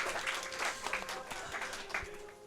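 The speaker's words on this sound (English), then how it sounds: "Please give them another round of applause" An audience at a video game speedrun event claps for a round of adventure games, a moderate spatter of applause that rises and falls over a couple of seconds.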